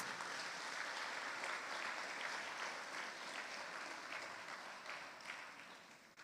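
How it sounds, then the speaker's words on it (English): A crowd claps for sponsors at a primary school's annual graduation ceremony, giving a sustained round of applause that stays fairly even and fades slightly toward the end, moderately distant. "Come on, let's give them a round of applause."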